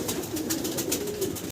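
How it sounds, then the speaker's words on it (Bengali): Nasal tum single-crest pigeons, a breeding pair, coo in a steady low murmur, close and continuous with no voices, ending abruptly. "নাসাল টাম কবুতর, সিঙ্গেল ক্রেস্টের"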